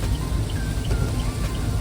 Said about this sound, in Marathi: ट्रिपला एवढा बेकार पाऊस आहे